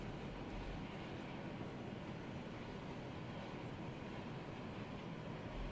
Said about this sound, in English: Definitely not going to get the whole train with the way that this thing seems to be rolling out.